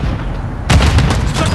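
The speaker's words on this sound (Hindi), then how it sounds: "ग्रेनेड आया यहाँ पे।" A grenade blast in Call of Duty: Modern Warfare 2 (2022) lands as a sudden, loud, deep boom over steady game noise, followed by a rumbling tail.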